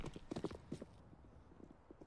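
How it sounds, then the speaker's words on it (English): Footsteps in the video game Counter-Strike, a quick run of soft, uneven thuds at first, then fainter steps that trail off over a low background hum. "Smooya hears all these footsteps."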